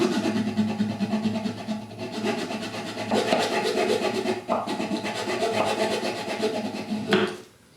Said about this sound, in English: So I'm going to go ahead and just take a little razor saw and saw down on either side.